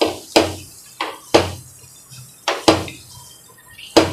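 A utensil stirs wheat flour halwa with ghee in a pan over low heat, striking the metal in sharp, regular clinks about every second, loud and close, with faint scraping between strikes.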